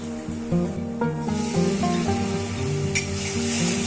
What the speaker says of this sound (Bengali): সমস্ত মশলা ভালো করে মিশিয়ে নিচ্ছি।